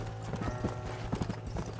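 Galloping horses in the Red Dead Redemption video game on a rainy mountain ride, with steady rapid clip-clop hoofbeats, close and loud throughout, plus a faint neigh.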